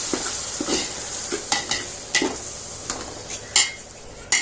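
Yogurt being stirred into fried masala for chicken biryani, a soft sizzle under repeated clinks and scrapes of a spoon against the pot, irregular strokes with one sharper knock near the end, no talking.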